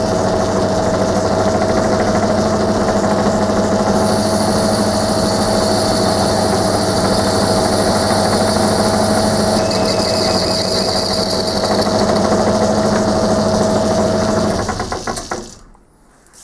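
Metal lathe running with the lead screw drivetrain engaged, a steady loud mechanical hum and whine with tonal layers, continuous for about fifteen seconds before winding down at the end, no talk.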